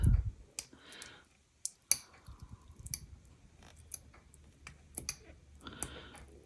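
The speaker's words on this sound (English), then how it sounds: "I'm going to dig out these with my X-Acto knife" X-Acto knife picking air bubbles out of still slightly flexible cured resin on a resin river table, a close series of sharp irregular clicks and light scrapes, scattered and fairly quiet.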